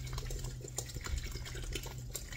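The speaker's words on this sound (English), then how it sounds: "I'm gonna add me some spring water," Spring water pours steadily into a detox drink, a soft continuous liquid splashing and filling sound close by with no talking.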